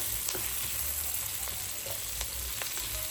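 Garlic and onion sauté in a pan with a dense, steady sizzle, close and even, punctuated by a few light scrapes and ticks; no voices.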